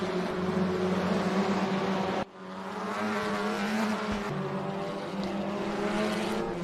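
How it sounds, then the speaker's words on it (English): Touring car from the Euro TCR class in the RaceRoom racing game at Portimao, engine howling steadily at high revs with a brief gap as it shifts down the gears into a hairpin, loud and close. "You could just about hear the car screaming down the gears to get into that 2nd gear hairpin"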